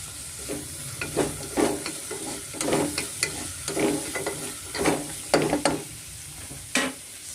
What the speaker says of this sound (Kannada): ತರಕಾರಿ ಎಲ್ಲ ಚೆನ್ನಾಗಿ ಎಣ್ಣೆಯಲ್ಲಿ ಚೆನ್ನಾಗಿ ಫ್ರೈ ಆಗಿದೆ